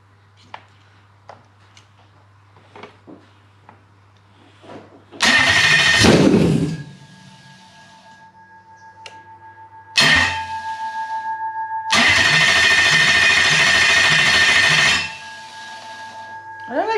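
A Toyota 3UZ V8 swapped into a car cranks and starts after an ECU reflash, bursting into a loud idle that cuts out, then restarts twice with steady idling between faint clicks and a quiet hum.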